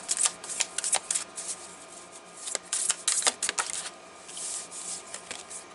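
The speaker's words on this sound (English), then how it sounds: "I'm going to shuffle them for a bit," A deck of tarot cards is shuffled by hand, close up, in quick irregular bursts of riffling and slapping separated by short pauses.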